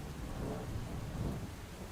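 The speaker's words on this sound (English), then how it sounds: "This is quite a powerful rain" Steady, heavy rain with a low thunder rumble in a Rust-made dwarf colony game, a dense continuous downpour wash with no voices over it.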